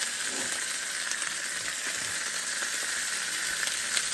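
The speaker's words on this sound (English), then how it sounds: "I'm just frying it up as is" Bacon sizzles and crackles steadily in a hot pan, a close, dense hiss dotted with small pops, with no voices.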